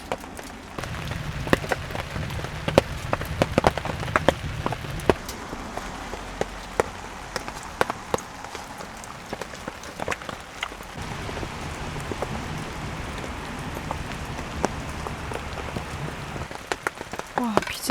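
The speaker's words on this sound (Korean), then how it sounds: "와, 비 진짜 많이 온다." Heavy rain pounds steadily on a camping shelter on a cold night, a dense continuous hiss with scattered sharp drop taps close by, while a voice speaks briefly underneath.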